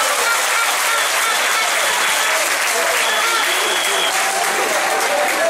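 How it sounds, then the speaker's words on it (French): A large crowd at a public gathering applauds continuously, dense loud clapping that stays at a steady level throughout with no break. "Acclamons les très forts, s'il vous plaît."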